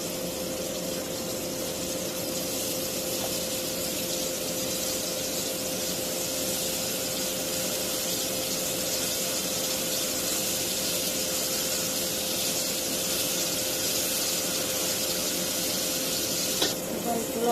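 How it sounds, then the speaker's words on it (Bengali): Onion frying in a pan for a papaya and shing fish curry, giving a steady, even sizzle and hiss that holds throughout at moderate level, with no talk over it. "এখন পেঁয়াজটা ভেজে নেব।"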